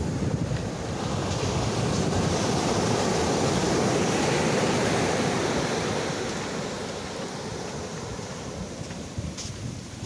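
Ocean surf on a Florida beach along the Treasure Coast at low tide, a broad continuous roar of breaking waves with some wind buffeting the microphone, loud and close throughout before easing slightly toward the end.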